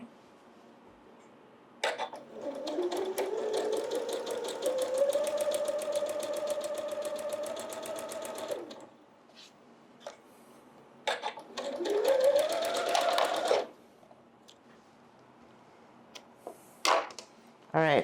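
A sewing machine stitching fabric for a Christmas quilt project runs in two steady whirring bursts, a longer one then a shorter one, close and fairly loud, with quiet handling noises in the pauses.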